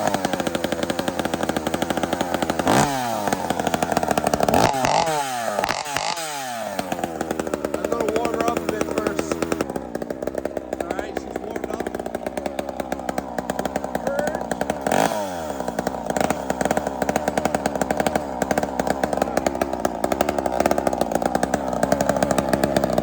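A big-bore Husqvarna chainsaw running on nitrous, a loud, harsh engine roar held close up, with sharp revs rising and falling and brief dips in the drone.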